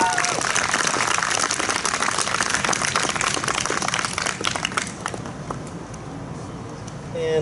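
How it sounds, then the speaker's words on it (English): Dense applause from an audience at an 8th grade graduation ceremony rings out loudly, then thins and tapers off over the last couple of seconds. "let's just give another round of applause for those wonderful speakers"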